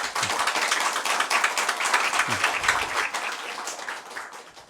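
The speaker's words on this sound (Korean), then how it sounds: "우리 수고하신 찬양대에게 다 같이 커다란 박수를 보내드릴까요?" Church congregation clapping for the choir at a New Year service, a loud burst of many hands applauding that gradually fades, with a few voices underneath.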